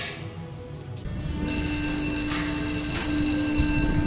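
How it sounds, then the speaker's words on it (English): Start bell on a Pterodactyl ride at a windy amusement park, a loud sustained electric ringing that cuts in suddenly and continues steadily over rumbling wind and machinery noise. "And the bell rings and up we go."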